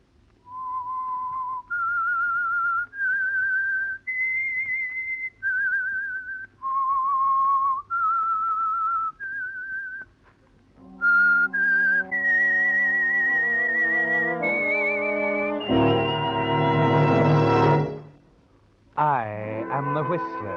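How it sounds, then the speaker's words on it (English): A whistled melody opens a 1947 Signal Oil radio drama, a run of clear single notes at a steady pace, followed by a loud orchestral passage with rising strings and brass. "That whistle is your signal for the Signal Oil Program"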